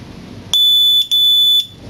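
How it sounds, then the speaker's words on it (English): Two loud, high-pitched electronic beeps from an RFID lock, the first about half a second and the second slightly longer, close by, over quiet room noise. "I'm going to hold it until I hear two beeps."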